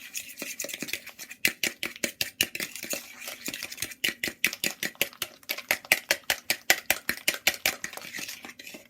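Fork whisking a sugar mixture in a bowl for an upside-down apple and pecan cake: rapid, steady rhythmic clicking and tapping against the bowl, dozens of strokes, close and fairly clear with no talk.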